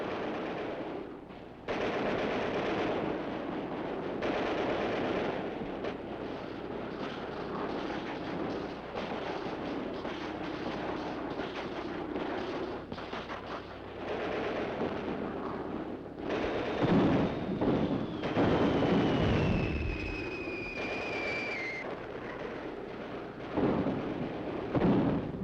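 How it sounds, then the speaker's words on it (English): Heavy artillery fire in a 1941 Soviet war film about fighting Hitler, with repeated loud booming blasts and rumbling barrages, dense and continuous, rising to a fierce cluster near the end over a thin whistling tone. "Under cover of Russia's heavy artillery,"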